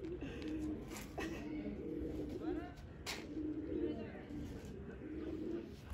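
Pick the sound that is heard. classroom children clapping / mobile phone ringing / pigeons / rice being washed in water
pigeons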